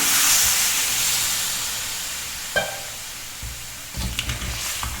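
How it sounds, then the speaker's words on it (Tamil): A loud hiss of steam bursts up as about 200 ml of water hits a hot pan of crab masala, slowly fading, followed by a few clinks and bubbling sounds. "தண்ணி ஒரு 200 ml அளவுக்கு தண்ணி ஊற்றிக்கிறேன்"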